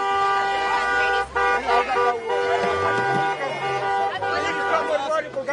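Car horn honking amid busy street noise, with several toots and a sustained horn tone over a constant traffic and crowd hum; voices chatter in the background.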